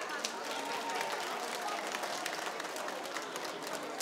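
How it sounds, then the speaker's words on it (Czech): Steady crowd applause at an outdoor summer folk and schlager music festival after a band's performance, a dense, even wash of clapping continuing throughout at a moderate, somewhat distant level. "ešte jeden veľký potlesk pre nich"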